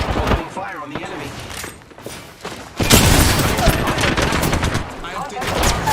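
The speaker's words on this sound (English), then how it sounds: "Opening fire on the enemy." Rapid gunfire bursts crackle in an online squad shooter game, loud and repeated in a dense fusillade, with a player talking over the shots throughout.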